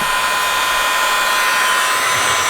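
A heat gun or hair dryer blows steadily and loudly at close range while heating shrink wrap to smooth it over a cellular trail camera, a continuous airy roar with no talking.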